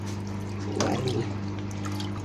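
Tap water runs steadily into a sink while raw chicken is washed by hand, with a brief louder splash partway through and no talk.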